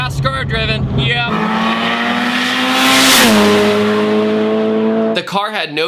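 A fast, heavily boosted turbocharged car accelerates hard along a road, its engine note rising strongly through a gear and then dropping, with a voice heard briefly at the start and end.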